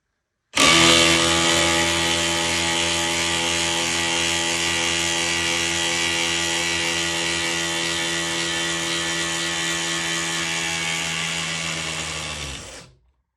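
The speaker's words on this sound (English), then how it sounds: "I hope you guys enjoyed that that video on these two quiet hydraulic impact drivers" Milwaukee and DeWalt quiet hydraulic impact drivers drive screws with a loud, steady whirring hum that runs unbroken for about twelve seconds before cutting off, with no talking.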